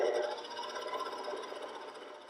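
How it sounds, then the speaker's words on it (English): A stand mixer hums steadily, beating candied fruit cookie dough with an even whirring drone that stays fairly quiet and constant throughout, with no voices over it. "let's let the magic of the mixer go to work"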